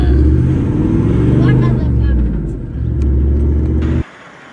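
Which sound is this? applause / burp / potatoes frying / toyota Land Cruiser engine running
toyota Land Cruiser engine running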